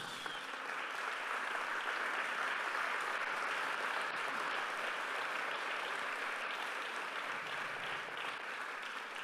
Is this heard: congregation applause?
yes